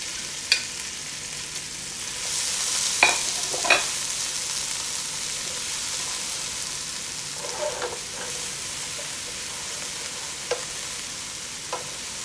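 Spring onions sizzle in two tablespoons of hot oil for Chinese-style egg rolls, a steady broadband frying hiss swelling after the first couple of seconds, with a few sharp clicks and scrapes of stirring scattered through.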